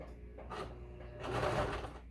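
A sewing machine stitches a seam on an upcycled T-shirt tote, running in two bursts with a steady mechanical whir. The second burst is louder and fuller, close to the microphone.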